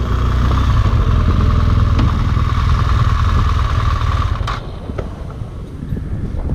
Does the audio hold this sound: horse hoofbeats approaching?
no